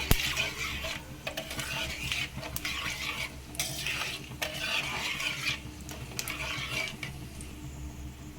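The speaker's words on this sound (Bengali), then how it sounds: "এবার অল্প নাড়াচাড়া করে নিচ্ছি" Sugar is stirred into hot oil in a pan for a Kashmiri dum aloo, producing a steady close sizzle with rhythmic scraping of a spoon against the pan and occasional metal clinks, no talking.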